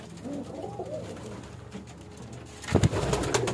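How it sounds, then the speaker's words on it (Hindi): Soft coos from Pakistani pigeons eating grain repeat close by, followed by a burst of rustling and scuffling noise near the end. "दाना भी खा रहे हैं कबूतर शबूतर"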